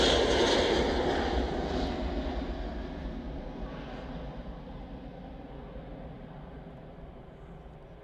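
An airliner departing Manchester Airport, a broad distant engine roar that fades steadily as it climbs away, with no talking.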